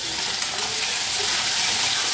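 Raw chicken pieces hit a hot pan for restaurant-style Hakka noodles, giving a loud, dense, continuous sizzle that holds steady close-up, with no voices.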